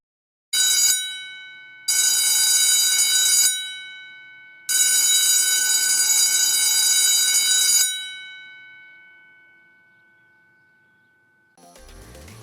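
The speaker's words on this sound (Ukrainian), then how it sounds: "Пролунав наш дзвоник востаннє" An electric school bell rings loudly in three long bursts, each cutting off and fading, with the last ring lasting several seconds before dying away.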